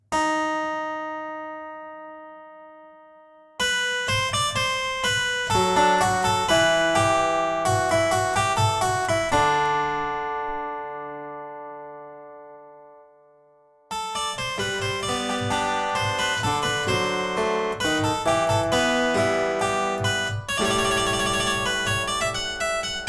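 Bright plucked sampled clavichord notes ring out in quick runs and chords, with a soft mechanical clatter of sampled key action beneath, pausing briefly before resuming.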